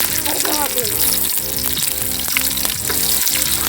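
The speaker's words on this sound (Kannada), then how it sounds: "ಎಣ್ಣೆ ಹಾಕಿದ ತಕ್ಷಣ ಸಾಸಿವೆ ಕಾಳು ಜೀರಿಗೆ ಮೆಣಸಿನ್ಕಾಯಿ" Mustard seeds, cumin and green chillies sizzle and crackle loudly in hot oil in a village kitchen, with a steady close frying hiss and a brief voice early on.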